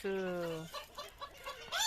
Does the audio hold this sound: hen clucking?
yes